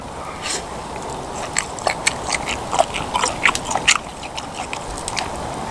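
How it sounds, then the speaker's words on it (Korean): Close, wet chewing and biting of boiled pork rib suyuk with noodles, irregular soft crunches and mouth sounds over a steady background hiss. "자, 그러면 이제 국수 한번 먹어볼까요, 국수?"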